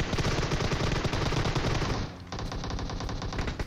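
Sustained automatic gunfire in the mobile battle royale game PUBG Mobile, loud rapid bursts that shift to a slightly different rattling weapon partway through, with no talking.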